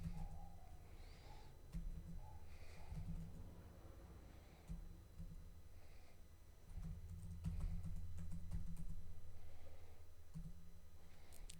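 Quick keyboard typing while writing code with Neovim snippets, a run of light clicks over a steady low hum, fairly close and continuous with short pauses.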